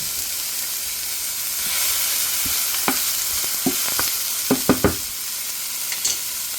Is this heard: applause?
no